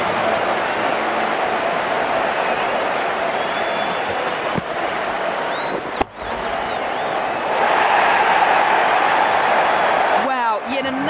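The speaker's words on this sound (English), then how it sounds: "It's going to be hard for the bowler to focus with the crowd this excited." Spectators at a 2018 Caribbean Premier League cricket match between Jamaica Tallawahs and Guyana Amazon Warriors cheer and clap after back-to-back sixes, a continuous loud crowd roar that rises near the end, with a commentator talking over it.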